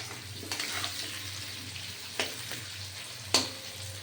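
Onion sizzles steadily in a hot pan, with a few sharp clinks and scrapes of a utensil against the pan.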